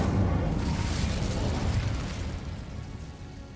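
A fiery burst from the Incendio spell in Hogwarts Legacy, a broad roaring whoosh that starts loud and slowly fades over a few seconds, close, with no voices.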